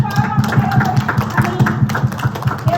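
A church congregation claps steadily in praise, a fast, even rhythm of hand claps with faint voices and room sound beneath.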